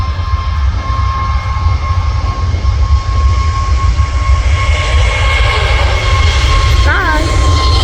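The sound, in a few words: large airplane arriving at Manchester Airport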